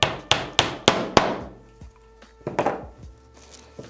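Small nails hammered into a leather strop: five sharp, evenly spaced taps, then a pause and a looser cluster of lighter knocks, close and loud.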